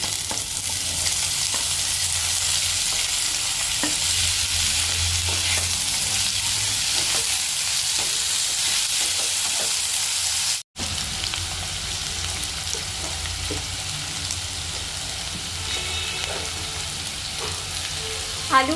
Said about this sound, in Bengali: আলু ভাজার সময়